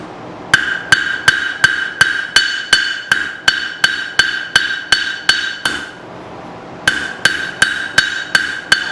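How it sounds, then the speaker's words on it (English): A hammer strikes a steel knife blade being forged from a file in a steady, even rhythm, sharp ringing blows about twice a second, pausing briefly before resuming. "this hammer seems to be putting a good finish on it"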